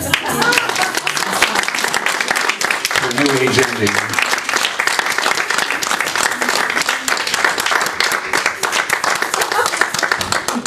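Steady, dense clapping from a crowd fills the whole stretch, with a brief spoken line and faint voices underneath.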